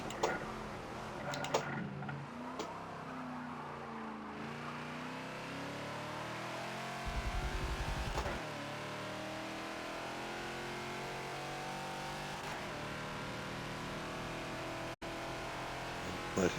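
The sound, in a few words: Ferrari race car driving past in Forza video game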